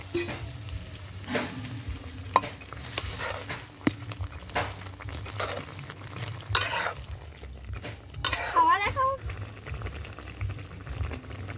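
Small puti fish go into a bubbling pan of spicy curry, with steady simmering and boiling over scattered clanks and scrapes and a brief burst of splashing sizzle near the end.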